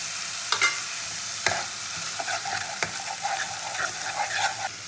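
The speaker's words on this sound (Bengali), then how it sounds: "পেঁয়াজ বাটাটা ভালো করে ভেজে নিয়ে দেবো আমি রসুন আদা বাটাটা" Onion paste fries in oil with garlic-ginger paste for a katla fish masala curry, giving a close, bubbling sizzle with a few sharp spatula knocks early on and softer stirring scrapes afterward, and no voices.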